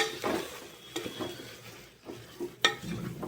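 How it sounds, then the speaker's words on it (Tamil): Biryani masala stirred in a pot with a spoon, producing irregular scraping strokes and a light sizzle, with a sharp clink of utensil against metal near the end, close and fairly quiet. "அதை போட்டுட்டு நல்லா கிண்டணும் வச்சுக்கணும்."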